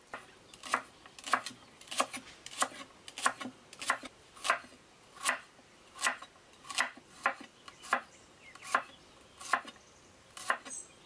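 A knife chops vegetables into rounds for cod plaki outdoors on Ikaria, about twenty crisp, evenly spaced cuts close up with nothing else in the background.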